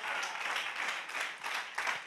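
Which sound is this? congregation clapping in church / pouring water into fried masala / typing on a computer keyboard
congregation clapping in church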